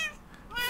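A cat meows once in Minecraft, a short, faint, high-pitched call with a rising tail, heard alone with no talk over it.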